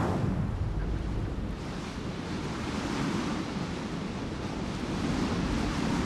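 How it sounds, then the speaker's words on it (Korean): Strong wind blowing on Jeju Island at a straw-bale house building site, a loud constant roar of gusts buffeting the microphone for several seconds with no voices. "거센 바람이 불어닥치는 제주 특별자치도."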